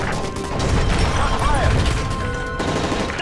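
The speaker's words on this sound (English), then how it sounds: "That's gunfire!" Bursts of gunfire in Call of Duty: Modern Warfare 3 during an attack aboard a plane, dense rattling shots mixed with crashes, shouting voices and game effects.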